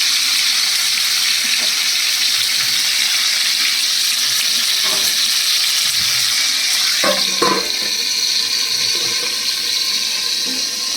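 Potatoes fry in a pan while chicken kosha is being made, giving a loud, constant hiss with a few clattering knocks of the utensil partway through.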